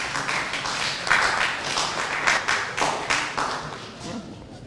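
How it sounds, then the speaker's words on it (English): An audience at a press briefing by Nigeria's Minister of Interior claps in a loose, uneven rhythm. The sharp hand claps come through fairly close over several seconds and thin out at the end. "Clap for us now."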